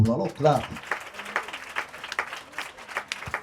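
Audience clapping at a school donation event: a voice speaks briefly at the start, then uneven rhythmic clapping from a modest group continues, moderately loud and close.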